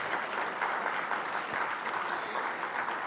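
A lecture audience at the AWP 2025 conference applauds author Tayari Jones, thick continuous clapping from many hands holding steady throughout.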